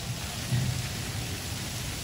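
Steady rain falls at an outdoor event at Siam Paragon, a continuous even hiss of drops with a faint low rumble beneath, no voices.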